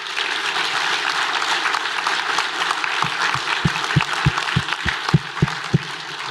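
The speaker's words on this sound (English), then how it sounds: "can we have a massive round of applause to our panel and to Bodie?" Applause from the audience at an agricultural talk on stocking rate and system design, thanking the panel. Steady crowd clapping throughout, with one person's loud, rhythmic claps standing out close by in the second half.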